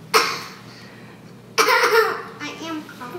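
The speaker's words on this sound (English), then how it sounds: "I am coughing." A child coughs in two distinct bouts, a single sharp cough followed later by a longer, raspier fit that trails off into a softer sound, all close to the microphone in a quiet room.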